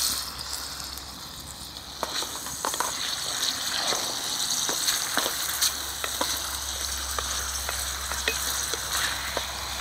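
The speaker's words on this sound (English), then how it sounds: "cook this now over the fire" Food sizzles and fries steadily in a pan over a small, smoky campfire outdoors on a very cold night, with a continuous crackling hiss and scattered sharp ticks and pops.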